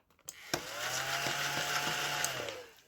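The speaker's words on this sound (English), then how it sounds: "I'm going to quick get my Hoover out because I've got it just here" A Hoover vacuum cleaner switches on and runs close by with a steady whining motor hum, preceded by a few clicks and knocks, then slowly winds down at the end.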